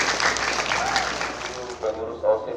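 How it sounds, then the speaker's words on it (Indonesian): An audience at a madrasah ceremony installing a student council board applauds in a sustained, moderately loud wash of clapping that fades toward the end, with a voice speaking over it. "Tepuk tangan dulu atas kalian semua."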